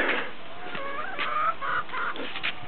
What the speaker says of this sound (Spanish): Ve las gallinas quietas.